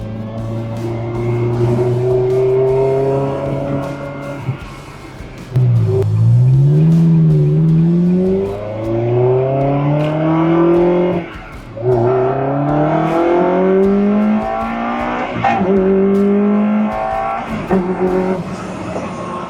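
A 2004 Ferrari 360 Spider with F1 transmission roars nearby, revving up through gears with rising pitch sweeps and brief dips between shifts, loud and continuous.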